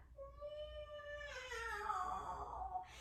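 A voice imitates a Halloween cat, drawing out a rising, wavering yowl that breaks into a raspy hiss, fairly quiet and close.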